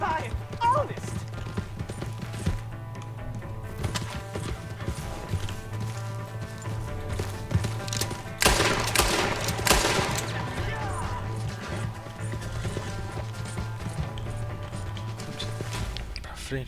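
A horse gallops in Red Dead Redemption 2, with steady hoofbeats drumming under game voices, music and a burst of gunfire partway through.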